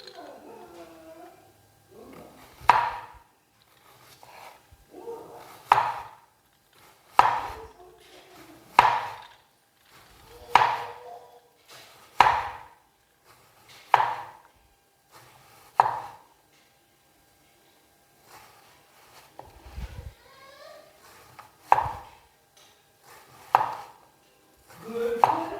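Knife chopping raw bananas into pieces for chips, a dozen or so sharp, evenly spaced chops on a board, close and clear, with someone talking quietly between them.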